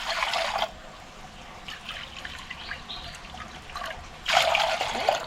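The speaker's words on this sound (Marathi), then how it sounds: "इथे मी हे पाणी घेते" Water trickles and pours into a bowl for mixing flour batter for vade, two short splashy bursts at the start and end with quiet room tone between.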